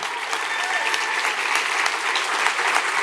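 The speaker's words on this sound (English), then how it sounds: "A special round of applause for the Morrison family." Audience applause at StoryFest, a dense, steady burst of many hands clapping together at close range, loud and sustained throughout.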